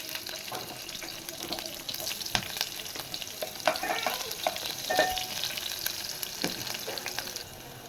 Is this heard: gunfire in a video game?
no